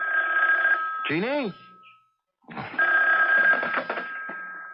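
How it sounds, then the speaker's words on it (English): An old telephone bell rings in a 1980 television show, sounding in two loud, buzzing bursts separated by a brief silence. A voice speaks between the rings. "you'd better answer the phone"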